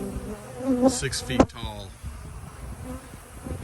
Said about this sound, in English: Both of these beehives are full of bees.